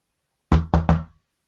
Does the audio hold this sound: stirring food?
no